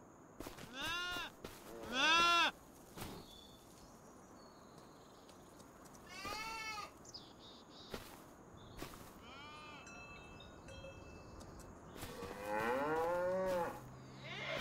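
Several cows in the video game Farming Simulator 25 moo repeatedly, long drawn-out lows spaced across the stretch, some louder and nearer, over a faint steady background hum.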